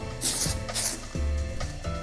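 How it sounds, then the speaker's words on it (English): Hairspray hisses over hair in two quick bursts of close, airy spray, with low thumps and handling noise between them and no talk. "So the first thing I do is I just kind of spray a light spray all over the hair."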